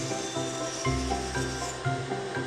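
A carved wooden fish is hand sanded in a garage workshop, giving a steady, close, scratchy rub with rhythmic strokes and no talking.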